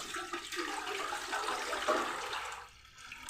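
Water pours steadily into a cooking vessel while sambar is being made, a close, continuous splashing rush that runs for about two and a half seconds and then stops, leaving quiet room tone.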